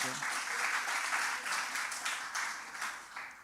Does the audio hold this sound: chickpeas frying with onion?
no